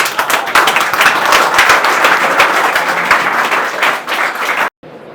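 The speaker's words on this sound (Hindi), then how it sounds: "पहले इन बच्चों के लिए जोरदार ताली हो जाए" Loud, enthusiastic applause for a group of children at a school event, many hands clapping steadily for several seconds and stopping abruptly.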